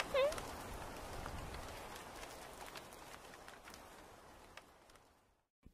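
Sudden rain falls steadily as a dense, even hiss with scattered drop patters, moderately loud and continuous before fading out at the end.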